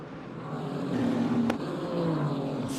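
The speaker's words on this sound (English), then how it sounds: "Car leaves pit lane now" A Ligier race car in the Michelin Le Mans Cup pulls out of the pit lane, its engine note rising as it accelerates amid steady track ambience, moderately close and building in loudness.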